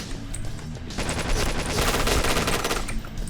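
Rapid gunfire rattles in the video game Point Blank, a dense stream of close, loud shots that grows heavier midway and keeps going without pause.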